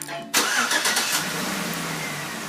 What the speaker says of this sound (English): Hit the start key twice. Horn honks, engine cranks.